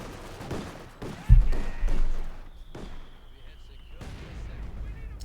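Artillery bombardment in the Company of Heroes 2 World War II strategy game lands as a heavy thump followed by rumbling blasts, loud against a busy battle background, with a faint whistle before another impact.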